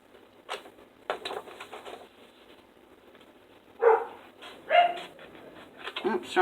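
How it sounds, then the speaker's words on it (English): Dogs bark indoors in a few sharp bursts, first faintly and then louder and closer in a cluster of barks toward the end. "Oops, sorry about the dogs, guys."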